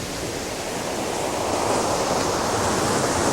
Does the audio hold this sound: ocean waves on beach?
yes